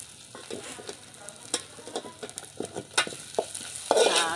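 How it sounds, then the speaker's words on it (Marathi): Masala with turmeric and coriander powder roasting in a pan, giving a soft sizzle broken by repeated scraping and stirring taps, with a louder hiss flaring up at the end. "हा आपल्याला मसाला आता भाजून घ्यायचा याच्यामध्ये"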